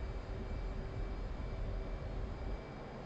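An F/A-18C Hornet jet engine at full takeoff power in DCS World gives a steady, loud broadband roar that holds unbroken for the whole stretch and eases slightly near the end.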